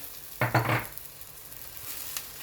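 Rice being stirred and blended with pepper paste in a cooking pot, with a short burst of two or three close scraping, sizzling strokes followed by a quiet hiss.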